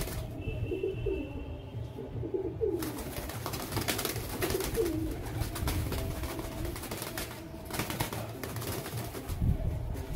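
Newly brought home pigeons coo close by in repeated low, rolling phrases over a constant rustling background, with a faint high whistle near the start.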